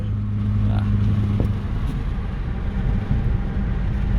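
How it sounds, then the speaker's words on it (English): A modified Hyundai Veloster runs with a steady, loud engine drone from inside the car, a low hum with faint clunks between gear shifts. "Those freaking shifts, they sound so good."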